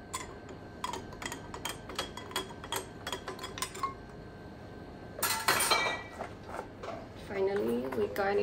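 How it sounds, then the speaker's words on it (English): A punch is stirred with ice in a glass, giving a run of quick clinks and ticks up close, then a brief louder rattle of ice, with talk in the background. "Give it a little stir."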